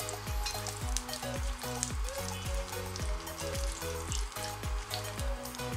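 Cinnamon, cloves and cardamom fry in hot oil with a continuous close sizzle and crackle, joined by a rhythmic, regularly repeating scraping or stirring pattern. No voices can be heard.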